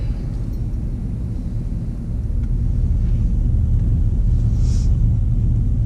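A 2017 Chevy SS fitted with a Kooks exhaust on a quarter-mile drag run, its deep engine rumble and exhaust drone holding steady throughout, growing slightly louder partway through, with no talk.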